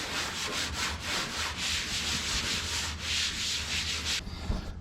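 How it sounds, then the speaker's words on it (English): A Scotch-Brite pad rubs back and forth over a surface in steady, close scrubbing strokes, sounding much like sanding, then stops near the end. "We're gonna try some Scotch-Brite."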